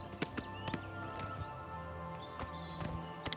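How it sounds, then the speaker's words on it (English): A horse's hooves in a video game clip-clop in a quick, irregular patter at moderate loudness, with a steady tonal background underneath. "Just gonna park my horse right here"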